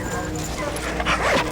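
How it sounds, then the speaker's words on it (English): Search dogs on a sheriff's search bark and yip in short bursts, heard under people talking throughout. "The dogs need a break."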